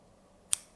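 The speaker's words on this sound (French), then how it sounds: "on prend la moitié, on reprend nos ciseaux," A single sharp snip of scissors cutting material while tying a streamer fly for pike fishing, close and crisp, standing alone against a quiet background.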